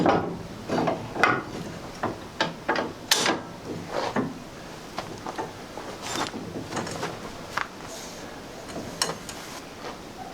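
A high lift jack being ratcheted between a truck cross member and a box body, giving a series of irregular close clicks and metallic clunks at moderate volume, with no talking.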